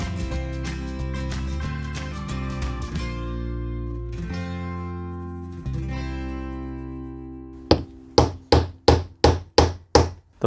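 A brake caliper piston is hammered out while the caliper is clamped in a vise: after a stretch of sustained tonal music, about eight loud, evenly spaced metallic blows ring out in quick succession near the end.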